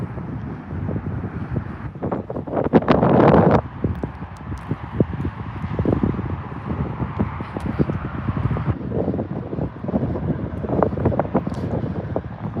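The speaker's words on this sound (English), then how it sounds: "there is so much wind here" Strong outdoor wind buffets the microphone in loud, rumbling gusts that rise and fall throughout, with clattering knocks and faint background sounds mixed in.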